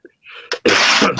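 A single person sneezes: a short breathy intake, a brief catch, then one loud explosive burst of sneeze that trails off quickly, heard close and alone.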